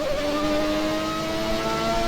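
A 1991 McLaren MP4 racing car in a video game, its engine giving a steady, sustained whine with rising tonal pitch, continuous and fairly loud, no talk over it.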